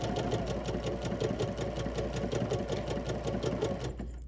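A sewing machine stitching clear thread around appliqué pieces for a lemur quilt pattern runs steadily with a fast, even mechanical chatter close by, then slows and stops near the end.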